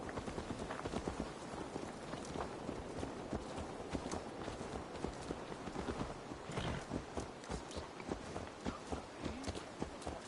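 A horse's hooves clip-clop in a steady walking rhythm in the Viking-era video game Assassin's Creed Valhalla, close and clear with light ambient background.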